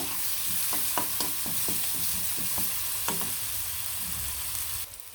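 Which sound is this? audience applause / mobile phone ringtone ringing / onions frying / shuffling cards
onions frying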